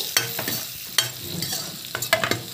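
A pan of frying ingredients with turmeric for coriander paratha is stirred vigorously, producing repeated close scraping strokes over a soft continuous sizzle.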